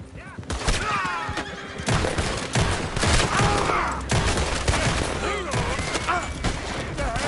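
A horse-drawn coach nears in Red Dead Redemption 2, with a horse whinnying loudly amid bursts of gunfire and a busy shootout din, while voices talk over the action.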